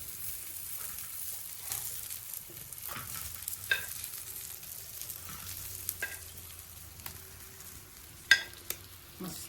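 Pieces of fish frying in a pan in a Konkan village kitchen, a steady close sizzle broken by occasional scrapes and clinks of a utensil, with no talking.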